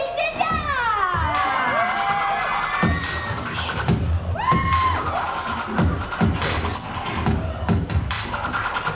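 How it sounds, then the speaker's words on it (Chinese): A concert crowd at the Chung Yo department store in Taichung screams and cheers on cue for a pop singer, with bursts of high shrieks and whoops rising and falling over several seconds. "预备，请尖叫！"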